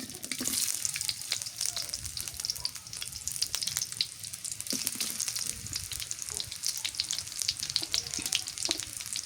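Onions sizzle and crackle in a pan of hot oil with a steady hiss and popping, close up and continuous, no voice in between.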